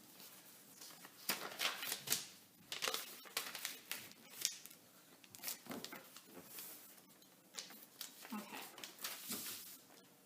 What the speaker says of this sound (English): Here, should we actually cut it into 10 pieces? Let's do it.